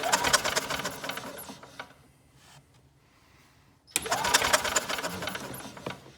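An old golf cart engine cranked by its starter: two loud, rapid mechanical churning bursts, close up, separated by a quiet pause of about two seconds.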